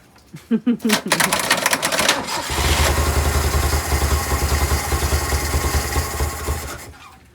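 An old Toyota forklift engine cranks with a quick series of chugs, then catches and runs in a loud, rough, rapid idle close by, while someone talks briefly at the start.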